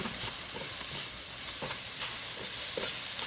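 Garlic frying in oil in a pan while a spoon stirs it, cooked for schezwan fried rice: a steady soft sizzle with faint scraping strokes of the spoon at a regular pace, quiet and close.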